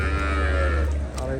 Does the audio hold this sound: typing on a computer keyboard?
no